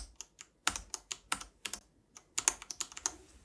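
Keys clack on a Thermaltake Level 20 RGB gaming keyboard, a close and irregular run of crisp individual presses with a short pause partway through and no talking.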